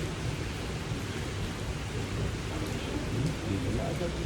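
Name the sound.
heavy rain with thunder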